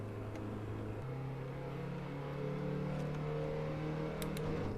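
A car engine in Assetto Corsa lapping Brands Hatch Indy, bogging down in 4th gear, drones steadily and sustained, its pitch creeping slowly upward without a sharp rev, loud and continuous with no talking.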